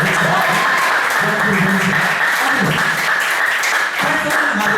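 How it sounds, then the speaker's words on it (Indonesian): A business event crowd claps for Prudential, a continuous burst of applause under loud amplified music or a reverberant PA hum, with some vocal sound mixed in. "Tepuk tangan dong buat Prudential"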